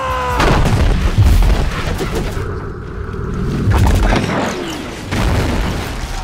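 Heavy booms like cannon fire ring out through a loud film-trailer battle scene for Gulliver's Travels, dense and continuous under music and effects, with shouting voices mixed in.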